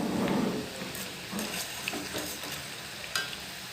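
Ginger pakoda fritters frying in hot oil, a steady bubbling sizzle with occasional stirring and light clinks of a utensil, close and continuous without talk.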